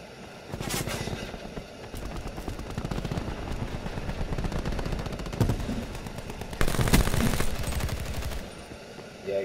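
Gunfire from new weapons in the video game Black Ops 4: long, loud bursts of rapid automatic fire, with brief pauses and a few heavier blasts, close up and dominating the mix.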